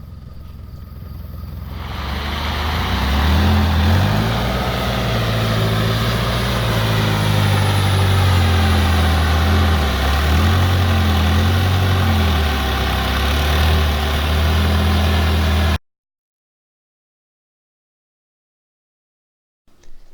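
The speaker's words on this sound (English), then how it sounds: "I put the regular mower blade back on to do the top" Push lawn mower engine fitted with a regular mower blade, running loud and close as it starts and revs up, then holding a steady rough drone before cutting off abruptly.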